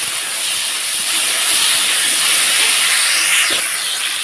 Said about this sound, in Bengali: আলুটাকে হালকা একটু লবণ দিয়ে ভেজে নেব।